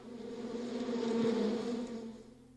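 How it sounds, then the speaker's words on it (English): A thick swarm of honeybees leaving the hive with their queen, heard as a steady, dense buzzing drone that swells toward the middle and then fades slightly, with no voices. "They flew away in a thick swarm."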